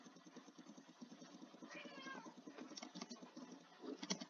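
A house cat meows repeatedly, close and fairly loud, over steady background noise, with a higher drawn-out yowl midway.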